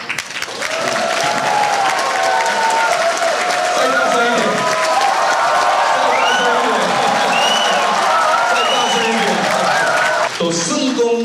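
Sustained, loud audience applause at a banquet in San Francisco for Laura Rosenberg, with cheering and voices over it for most of its length before it cuts off near the end.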